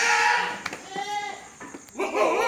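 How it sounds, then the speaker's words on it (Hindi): A Kashmiri goat bleats on a goat farm in Naigao, Mumbai, giving a few wavering cries close by among background voices and farm noise. "भाई ये बकरा जी ये देखो कश्मीरी बकरा ही है"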